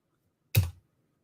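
A single sharp click from a computer mouse during on-screen editing, one brief isolated tap in an otherwise silent moment.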